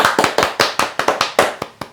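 A small audience claps in a short, sharp run of about ten distinct close hand claps, loose in rhythm and fading slightly toward the end.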